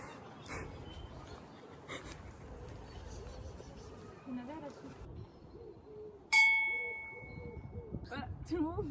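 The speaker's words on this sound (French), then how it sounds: "Fais sonner le gong" A gong struck once in a video game rings out with a bright, loud metallic strike that decays over a couple of seconds, following ambient game sounds and speech.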